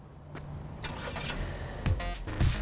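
A 2017 Holden Astra RS-V with a 1.6-litre engine starts by remote start, with a few clicks and a brief crank, then the engine catches and settles into a steady idle.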